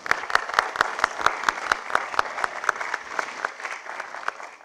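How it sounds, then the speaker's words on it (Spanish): Audience applause after a science-and-music concert dialogue, sharp individual claps in a steady rhythm that thin out toward the end, fairly close and alone. "También otro aplauso, por favor,"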